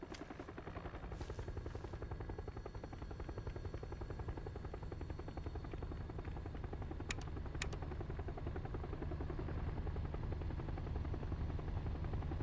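Helicopter close by in the battle royale game PUBG, a steady loud rotor thrum and whine that holds through the whole stretch and swells slightly toward the end, with no talking.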